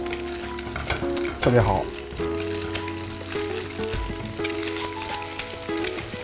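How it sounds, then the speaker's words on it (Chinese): Eggs stir-fried in a non-stick pan sizzle steadily and close up, with a brief louder scrape of stirring near the start and soft clinks throughout. "用不粘锅做，尤其是不用着急，慢慢的哈，搅一搅啊，让它炒香、炒匀啊"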